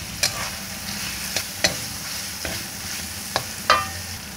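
Green chili, petai and bay leaves stir-fry in a hot pan for tempe with long beans, with a constant sizzle and sharp spatula scrapes and clinks at irregular moments, close and alone.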